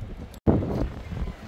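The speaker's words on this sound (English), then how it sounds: "And my goodness, it's windy." Strong wind roars across the microphone at the San Francisco Zoo, a loud, steady low buffeting that cuts out briefly once and then returns at full force.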